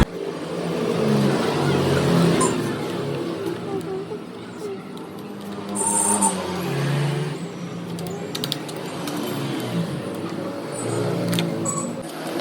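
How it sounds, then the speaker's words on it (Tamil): A Bajaj Pulsar motorcycle with a cut accelerator cable over-revs, its engine surging and falling repeatedly at close range while someone talks over it. "என்ன ஃபால்ட்டு கண்டுதுன்னா வண்டி ஓவராக ரேஸ் ஆகுது"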